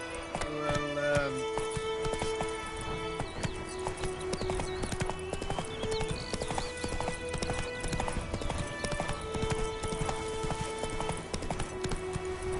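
Horse hooves clip-clop in a fast, steady galloping rhythm in The Witcher 3 on PS5, loud and close throughout with game music underneath and a brief whinny early on.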